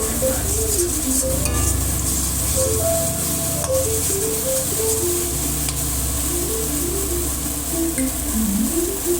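Masala sautéed in oil with Kashmiri chili powder for paneer and kidney bean curry, a steady loud sizzle with continuous stirring scrapes throughout and no talk.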